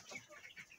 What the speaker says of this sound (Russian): А цесарочка у нас разговаривает так же, как и цыплята.